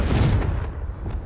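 Confringo blasting spell from Hogwarts Legacy detonating in a deep, booming explosion, a loud low burst that rumbles and fades over about a second.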